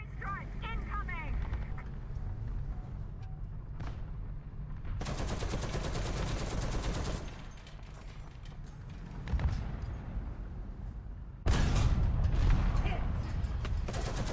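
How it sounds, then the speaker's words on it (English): An artillery strike hits in a tank video game. Two loud, sustained bursts of crackling blasts and rumbling explosions come several seconds apart, over a droning background. Voices talk at the start. "Artillery strike incoming!"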